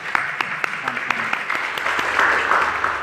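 A church congregation applauds, steady clapping from many hands filling the room at moderate volume for a few seconds, with a few sharper individual claps standing out.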